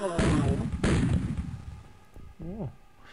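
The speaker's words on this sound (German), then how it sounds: "ich schieß nochmal" Gunfire in the X-Com video game, two sharp loud bursts with a decaying tail, followed by a quieter stretch with a voice talking briefly.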